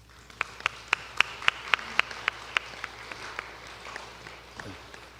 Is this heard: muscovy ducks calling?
no